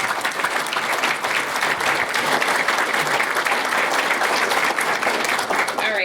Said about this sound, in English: So just one more applause for applause.